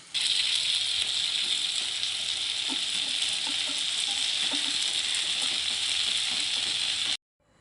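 Cauliflower tipped into a pan of spiced fish curry, setting off a loud, steady frying sizzle that runs unbroken for several seconds with faint stirring clicks beneath, then cuts off abruptly.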